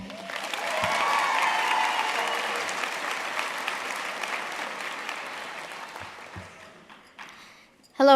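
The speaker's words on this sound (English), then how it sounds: "let's give one more round of applause for the choir." A graduation ceremony crowd applauds the choir, broad sustained clapping that swells early then gradually tapers off before a voice begins at the very end.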